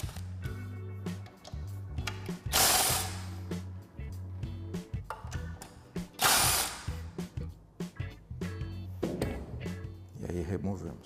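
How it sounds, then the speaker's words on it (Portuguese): A ratchet fitted with a 10 mm socket backs out the three oil pickup pre-filter bolts on an automatic transmission, giving close, crisp bursts of rapid clicking that stop and start, with a voice talking between strokes. "para isso a gente vai usar também o soquete 10 milímetros, são 3 parafusos"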